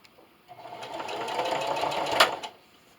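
A sewing machine runs a single steady burst of stitching through a towel, starting up, humming at an even fast rhythm close by, then stopping, with no talking.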